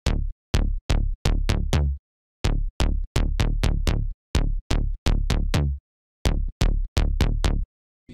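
Synthesizer notes played from a MIDI pattern for a drop, a series of short punchy plucked hits in a syncopated rhythm with brief gaps, loud and alone with no talking.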